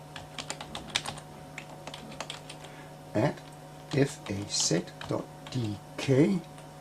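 Fast tapping on a computer keyboard runs throughout, close and fairly quiet, while someone talks over the middle and end.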